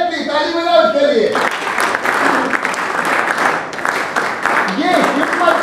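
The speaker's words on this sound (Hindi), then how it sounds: "एग्जैक्टली, ताली बजाओ उसके लिए।" A group in a yoga-based treatment education session breaks into sustained applause after a short stretch of talk at the start, the clapping dense and close, with a voice rising briefly over it near the end.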